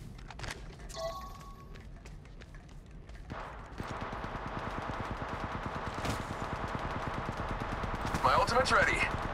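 Rapid automatic gunfire in the Apex Legends mobile game, a steady fast rattle of shots building through the second half, moderately loud, with in-game voice callouts and effects over it.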